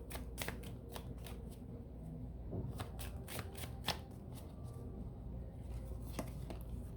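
Tarot cards are shuffled by hand in a quiet room, a steady run of soft riffling flicks and taps up close, with no talk.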